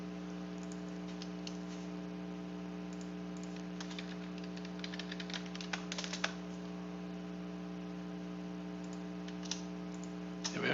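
Computer keyboard typed on while writing C++ code, irregular light key clicks in bursts over a steady electrical hum, fairly faint and close, with no talking.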